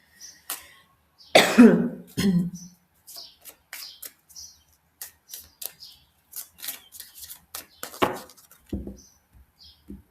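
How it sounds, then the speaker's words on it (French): A few sharp coughs and throat sounds close up, followed by scattered clicks and small noises in an otherwise quiet space. "Bah alors, qu'est-ce qui m'arrive? Je tousse."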